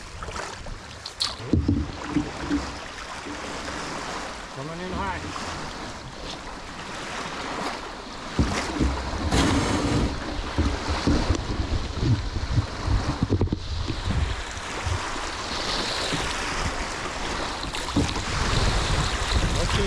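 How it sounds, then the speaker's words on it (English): Wind and waves buffet a canoe paddling on a lake in Algonquin park, steady broadband rush with water slaps and splashes throughout, voices talking occasionally over the noise. "within 10 minutes, the swells really picked up."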